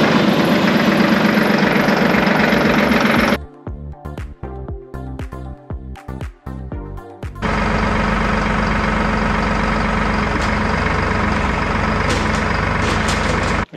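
A Massey Ferguson tractor engine runs steadily with the loader raised, a loud continuous low rumble that briefly drops into a choppy, stuttering stretch before returning to its full, even drone.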